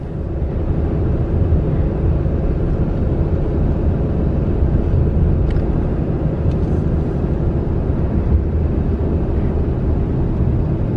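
Vehicle driving along the top of a dam beside a drained lake, a steady low rumble of engine and road noise with wind buffeting, continuous and close from inside the cab.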